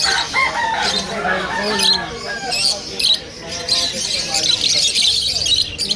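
Green opaline birds squawk and chatter in cages at a busy weekend pet market in Malabon, a dense overlapping mix of loud, shrill close-up calls with people's voices mixed in the background.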